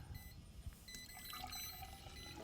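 Collected spray liquid from a spray drone's calibration run being poured into a measuring container, a steady close trickle and splash that keeps on without a break.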